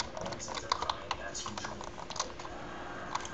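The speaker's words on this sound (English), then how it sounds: "I have a really loud keyboard." Keys clack irregularly on a loud computer keyboard, producing sharp, close clicks in uneven bursts over a faint steady hum.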